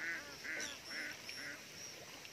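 A flock of ducks squabbling in a rice field, with a run of four or five nasal, honking quacks in quick succession. The calls sound fairly faint and distant over a low outdoor background.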